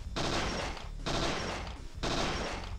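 Gunfire in the video game Parasite Eve 2 during a shooting training drill, three evenly spaced loud bursts of about a second each, separated by brief gaps, close and without talk.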